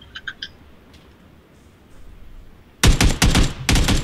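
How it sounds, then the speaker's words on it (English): Video game gunfire erupts as rapid loud automatic bursts in several close volleys, preceded by a few faint chirpy sounds. "He's getting shot at though, right?"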